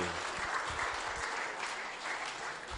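Applause for table tennis participants at a sports awards ceremony, a dense burst of clapping from a gathered crowd throughout.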